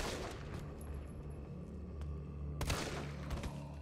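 A few gunshots sound in Resident Evil 3 Remake as shots go into zombie heads. There are a couple of muffled, booming reports over a low rumbling game background, with a sharp louder shot near the end.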